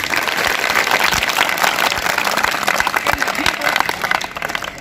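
A crowd of schoolchildren at an intermediate college event claps steadily, a dense and loud wash of applause that carries on for several seconds.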